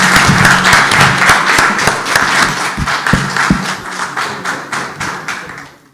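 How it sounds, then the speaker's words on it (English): Applause from the audience at a town chamber debate for the candidates, close and uneven, with distinct individual claps, taps and a few thumps, gradually thinning out. "Let's give them a round of applause."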